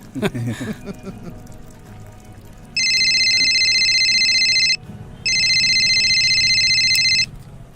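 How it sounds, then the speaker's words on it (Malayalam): A telephone rings in two long electronic bursts with a short gap between them, loud and close, over faint background noise. "രവിയേ, ആ ഫോൺ എനക്കാ."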